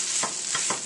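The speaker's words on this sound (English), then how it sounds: "Give it a stir." Onions caramelizing in a pan, stirred a few times, with soft scraping strokes over a steady low sizzle, close and quiet, no voices.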